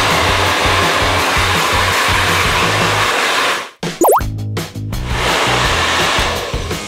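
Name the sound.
hair dryer drying hair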